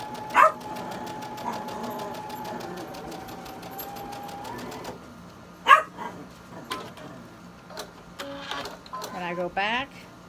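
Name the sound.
sewing machine stitching fabric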